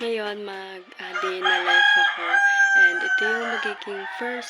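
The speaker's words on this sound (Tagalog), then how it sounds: "pagpasensyahan nyo na po yung ingay ng mga manok" Chickens and roosters on an island at 11 p.m., clucking and crowing close by under a person speaking in Tagalog and English, with one long drawn-out crow rising in the middle.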